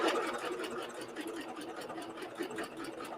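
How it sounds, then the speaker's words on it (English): A home sewing machine stitches fabric at a slow pace, a close, steady mechanical chatter of rapid needle strokes with a faint hum underneath, and no talk over it. "It's making a noise because I'm sewing really slow."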